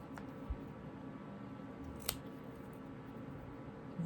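Scissors snip adhesive paper cut out for a vintage paper doll, with a few soft, sparse cuts close by in a quiet room.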